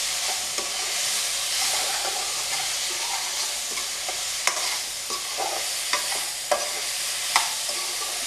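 Okra with masala and tomatoes sizzles in a pan as it is stirred, a continuous frying hiss with repeated scraping and sharp clatters of the spoon, no voices.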